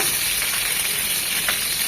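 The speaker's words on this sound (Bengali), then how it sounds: "মাছগুলো ভাজার জন্য দিয়ে দিচ্ছি সয়াবিন তেল তিন চামচের মতো" Fish fry lightly in soybean oil with a dense, steady sizzle and soft crackling close by, no talk over it.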